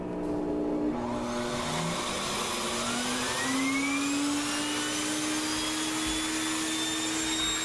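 A Sirena vacuum cleaner runs steadily with its Turbo Brush spinning, producing a loud, continuous whirring roar with rising and falling whine tones, close up and with no voices.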